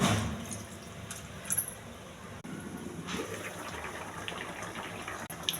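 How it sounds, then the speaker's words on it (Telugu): Water gushes steadily into a pot of cooking fish curry (chapala pulusu), a continuous close pour with a couple of light metallic clinks. "చేపలో ఎక్కువ వాటర్ వస్తుందండి, కొంచెం వాటర్ వేయాలి ఉడకడం కోసం."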